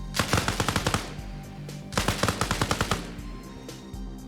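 An LMG in Arma Reforger fires two rapid bursts of around a dozen sharp, loud shots each, separated by a short pause, then a few trailing shots.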